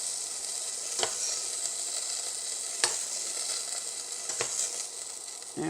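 Beef browning in olive oil in a pan sizzles with a steady, close hiss, broken by a few sharp clicks and scrapes of a utensil, with no one speaking.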